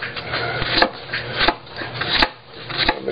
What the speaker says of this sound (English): The way I process garlic is I go longwise first, making paper thin slices.